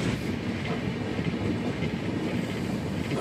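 Godda Weekly Express from Rajendra Nagar Terminal pulling into Godda station, a close, steady rumble of rolling coaches with faint rhythmic wheel clatter throughout.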